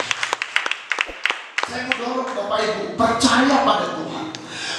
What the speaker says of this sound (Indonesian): Mari kita beri tepuk tangan buat Tuhan.